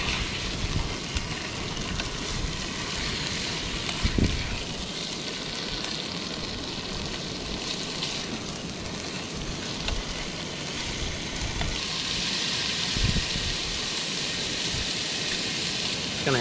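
Fish coated in paste frying in a pan at an outdoor catch-and-cook, a steady close hiss of sizzling oil with a few soft knocks from stirring and no talk.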